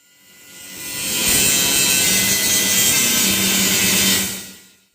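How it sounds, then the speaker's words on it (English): A power saw cuts through the metal frame of a rooftop tent for a mini off-grid camper, a loud continuous grinding whine that swells in, holds steady for several seconds, then fades out. "we've started making some cuts on the frame for the rooftop tent"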